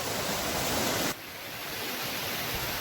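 Loud waterfall in a dense forest, a constant broadband roar of rushing water that drops abruptly to a softer wash partway through.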